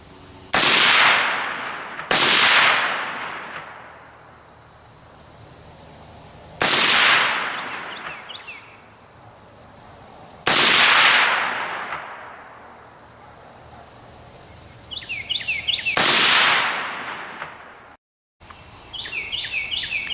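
Five loud, sharp .300 AAC Blackout rifle shots with 165-grain AMAX reloads, fired outdoors at a target a few seconds apart, each followed by a long echoing decay, with birds chirping faintly between shots.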